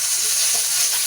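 Tomatoes hit a hot pan with garlic and onion for giniling, giving a brief, steady sizzle with constant close frying hiss.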